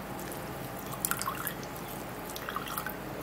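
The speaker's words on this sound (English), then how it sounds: "I'm just gonna be pressing that. And you can see the juice come out." Juice from pressed cucumber drips through a strainer, a scattering of small, quiet droplets landing irregularly over a low background hiss, with a cluster of drips midway and more near the end.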